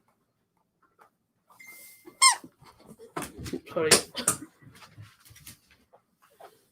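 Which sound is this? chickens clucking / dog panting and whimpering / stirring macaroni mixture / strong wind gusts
dog panting and whimpering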